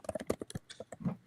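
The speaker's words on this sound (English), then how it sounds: "are you beating your fucking keyboard over there or what?" Hard, rapid typing on a computer keyboard close to a microphone, a quick irregular run of sharp clacking keystrokes with brief pauses.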